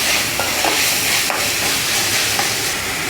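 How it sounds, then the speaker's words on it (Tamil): Onion and tomato sauté in a pan for a bottle gourd and toor dal kootu, giving a loud, steady close-up sizzle broken by a few sharp spoon scrapes and stirring clicks. "தக்காளி வெங்காயம் நல்லா வதங்கிடுச்சு"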